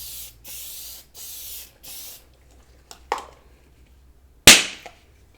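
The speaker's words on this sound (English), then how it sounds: "and then just spray that so that it's sealed." Four short bursts of hissing aerosol sealant spray in a steady rhythm, followed by a couple of sharp clicks and a loud knock.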